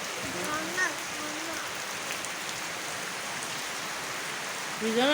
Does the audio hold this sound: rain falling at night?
yes